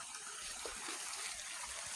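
Free-flowing water at a rural bathing spot in the countryside, a soft continuous trickling and splashing stream, faint and steady with no voices.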